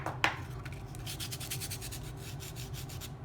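A fingertip rubs dried salt crystals off a watercolor geode painting, making a soft, continuous scratchy rubbing close by with one sharper tick near the start, with no talking.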